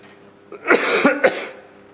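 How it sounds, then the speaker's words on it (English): Several rough, bursting coughs from a performer at a midsummer poetry festival, clustered within about a second and fairly close, with no talk around them. "Summertime coughs."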